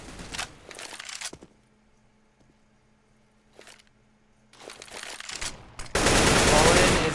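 An AK-47 fires in bursts during a Counter-Strike style esports match between Luminosity Gaming and The Mongolz, sharp rapid rattles near the start, a pause, then louder bursts and a sustained loud crackle at the end.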